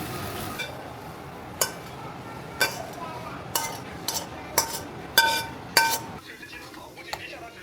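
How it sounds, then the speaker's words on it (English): Greens being stir-fried in a pan at a home dinner, with a run of sharp metallic clinks and scrapes from a utensil against the pan, roughly one per second, close and moderately loud, with no talk. "stir. Fry a fresh plate of greens for my wife."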